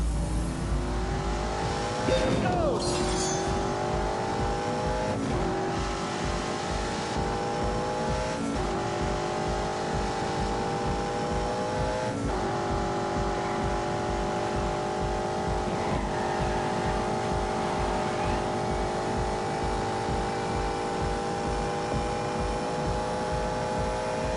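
A V8 car engine in The Grand Tour revs repeatedly, each climbing pitch sweep cut by a quick gear change before rising again, loud and steady throughout with no voices.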